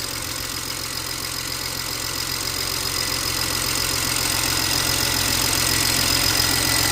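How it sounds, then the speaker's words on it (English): A 2007 BMW 335xi engine runs on all six injectors, idling steadily with an even mechanical hum and a faint ticking, heard close and alone, growing slightly louder toward the end. "Got all 6 injectors firing."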